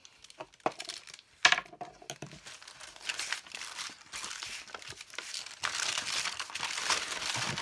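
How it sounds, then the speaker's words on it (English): Parchment paper crinkles and rustles up close on a work surface in irregular bursts, with a sharper crumple early on and continuous handling after. "Put some parchment paper under there."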